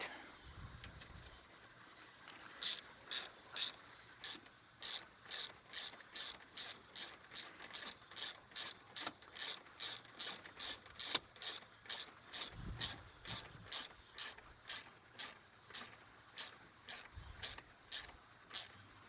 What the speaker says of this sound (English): And a ratchet.